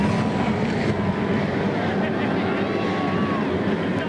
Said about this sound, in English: 38 GM Vortec 5700 engines roar to life